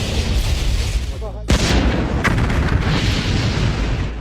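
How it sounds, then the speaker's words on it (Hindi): A deep boom bursts out suddenly amid a loud, rumbling roar, standing for the Columbia space shuttle explosion, with a low continuous rumble before and after the blast. "नासा की ये टीम इस बात से अनजान है कि कोलंबिया स्पेस शटल में एक धमाका हो गया है।"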